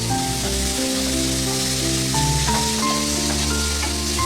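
Chopped shallots sautéing in a pan, a continuous sizzle with light crackles, heard alongside steady tonal background music throughout.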